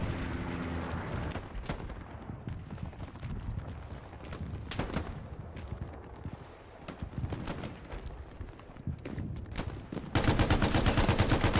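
A Bren gun fires in a World War II video game battle at El Alamein: repeated sharp bursts of automatic gunfire mixed with distant shots and battle noise, growing into a dense, loud volley at the end.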